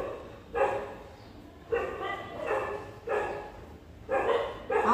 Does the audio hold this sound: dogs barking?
yes